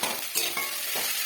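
A spice mixture for homemade shop-style samosa filling sizzles in a pan while being stirred, a steady close frying hiss with several soft scraping strokes of the spoon.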